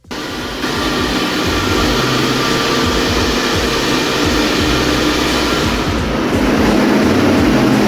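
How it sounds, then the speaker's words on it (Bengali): A 120 HP motor runs on test: a loud, steady, unbroken mechanical roar with a deep rumble, holding at the same level throughout with no talking. "এই মোটরগুলো এখন টেস্টিং করব, তোমরা খালি জাস্ট একটু আওয়াজ শোনো।"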